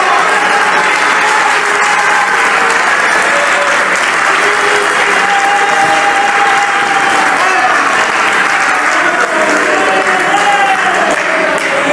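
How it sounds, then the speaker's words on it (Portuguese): A church congregation applauds loudly and continuously, a dense wash of clapping filling the room at steady volume throughout, with a voice faintly audible beneath. "Aplaudam o Senhor Jesus Cristo."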